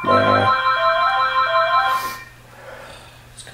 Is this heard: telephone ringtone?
yes